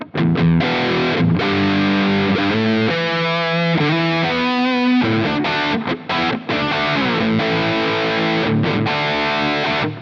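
Electric guitar through an overdrive pedal, Soldano tones on a Quad Cortex, plays chugging, distorted chords and a short riff, loud and continuous with brief choppy stops, no talking.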